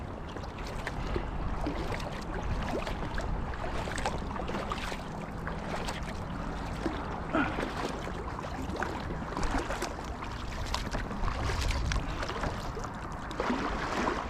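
A kayak paddles against the flow on the Conwy Estuary, with steady water swishing and splashing from the strokes under a constant wash of wind and moving water.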